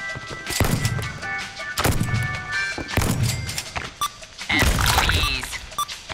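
Shots fired at fruit in the video game Shooty Fruity, heard as a series of punchy, thudding bursts at irregular intervals, loud and close, with layered game effects between them.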